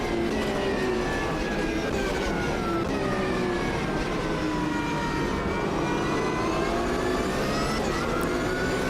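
Simulated Porsche 911 race car in Automobilista 2 at Daytona, engine droning and revving continuously with rising and falling harmonic whine, several cars overlapping at steady loudness, no talk.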